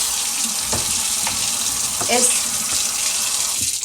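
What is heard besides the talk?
tap water running while washing green beans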